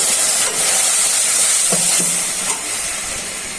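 Broth and spices hit fried onions in a pan for a radish and tiger prawn curry, bursting into a loud, close, steady hissing sizzle that eases slightly near the end, with no voices.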